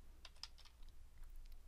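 Light, irregular clicks of fingers typing on a computer keyboard, quiet and close, in a short burst of keystrokes with low hum underneath and no talking.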